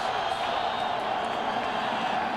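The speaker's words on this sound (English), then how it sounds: "Beasley trying to be heard over the crowd" A football stadium crowd at the 2000 Big XII college championship game, Oklahoma against Kansas, roars in a loud, continuous wash of cheering with a commentator's voice underneath.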